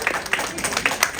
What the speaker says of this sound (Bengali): খুব জোরে একটা হাততালি হবে হল ভাঙা হাততালি হবে